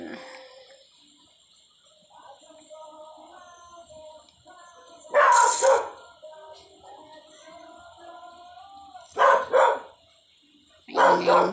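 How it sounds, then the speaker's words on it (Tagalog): A household dog lets out three loud, separate bursts of barking, spaced a few seconds apart, over a quieter background of birdsong and faint room sound. "Maingay yung tahol ng aso namin."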